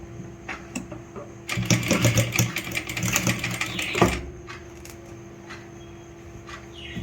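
A sewing machine stitching a fabric sleeve runs in a loud, fast burst for about two and a half seconds, then stops, leaving quiet room tone with a few faint taps.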